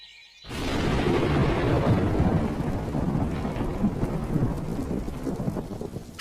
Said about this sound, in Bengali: সবাই পালিয়েছে এই ঝড়ে। বৃষ্টি হলে মালিকের সব টমেটো এই বৃষ্টির জলে পচে যাবে।